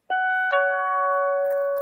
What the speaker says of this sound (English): Mr. Elvis, is that the new sound of the bell?